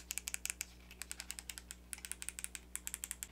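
Side buttons on a Razer Naga V2 Pro MMO gaming mouse clicking in quick irregular bursts, around two dozen sharp light taps close up and quiet, alone with no talk.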